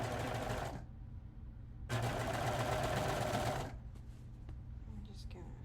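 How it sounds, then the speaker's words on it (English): A serger sewing machine stitches fabric in two loud, steady bursts of rapid whirring, with a brief lull between them, then drops to quieter low-level noise. "Just pull my serger thread out there. And line this up underneath the serger foot."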